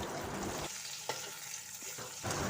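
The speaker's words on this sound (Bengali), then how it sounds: "এরপর টমেটোগুলো নরম হয়ে যাওয়া অবধি আবারও একবার ভালো করে ভাজা ভাজা করে নেব" Chopped tomatoes frying in a pan with onions give off a steady, close sizzle, with a few small clinks and stirring sounds along the way.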